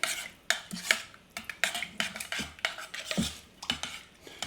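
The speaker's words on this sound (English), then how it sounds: "So I'm just going to mix that up a little bit." A spoon clinks and scrapes against a pot while stock is stirred for chicken enchiladas, giving close, quiet, irregular knocks in a loose rhythm, no voices.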